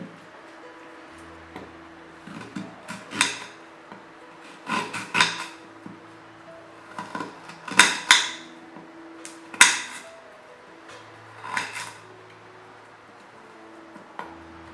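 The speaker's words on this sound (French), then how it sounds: "Vous découpez votre gingembre." Ginger is sliced with a knife on a board: a series of sharp, close chopping taps in irregular bursts against a quiet background.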